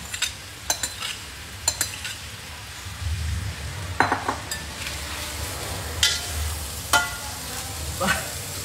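Food, apparently shrimp, frying in a pan, a low steady sizzle broken by sharp clinks and scrapes of utensils against cookware, moderately close with no talking.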